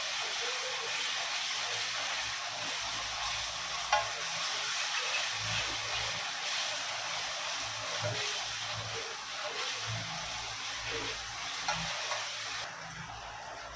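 Garlic paste sizzles and hisses in a hot pan, a steady frying crackle with occasional soft stirring scrapes, close up and without speech.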